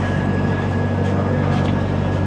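Himgiri Express pulling out of Lucknow Junction, a loud, steady low rumble of the train with a faint high whine running through it, and no voices.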